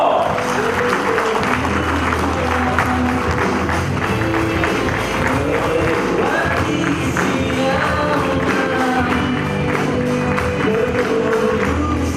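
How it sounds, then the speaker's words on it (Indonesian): Audience at a farming-products success-story event gives sustained, loud clapping with some cheering, a dense even wash of applause lasting about twelve seconds. "Mari kita berikan tepuk tangan"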